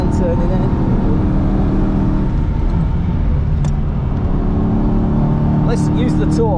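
Aston Martin V8 Vantage engine pulls hard from mid revs on a Nürburgring Nordschleife lap, a steady loud onboard drone with road and wind noise throughout, while someone talks over it.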